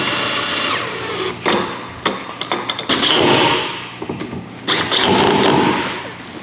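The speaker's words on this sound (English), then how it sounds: "we can tighten down this cleat here using those 10/32 screws" A power drill drives 10/32 screws to tighten a rudder cleat on a 2022 Native Watercraft Slayer kayak, loud close whirring bursts starting and stopping several times with brief thumps between runs.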